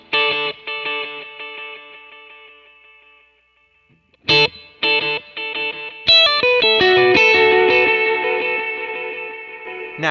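Ambient electric guitar played through a Kemper Profiler with heavy reverb and effects: sustained shimmering chords, a quiet pause, then sharp plucked notes that swell into a dense, washy wall of sound.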